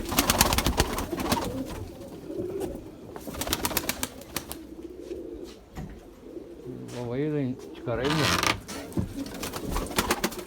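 White pigeon cooing in bursts with wing flaps and clattering movement on a windy day, mixed with creaks and someone talking nearby in between.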